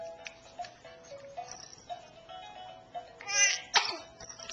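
A baby babbles softly and coos, then lets out one sharp, close sneeze near the end, followed by a little more vocalising.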